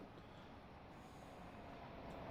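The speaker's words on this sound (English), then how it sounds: "And there's a train going by, which we're going to just go ahead and watch here." Class 66 freight train rolling past platform 1 at Elstree and Borehamwood station, a steady, fairly loud broadband rumble of wagons on the rails that continues without a break.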